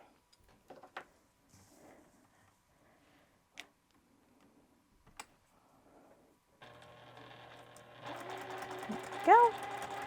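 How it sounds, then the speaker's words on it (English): A sewing machine stitches fabric along a marked line, starting abruptly after a few quiet handling taps and running as a loud, steady mechanical whir. A voice speaks briefly before it starts. "We're going to sew right down this number 3 line down to this here."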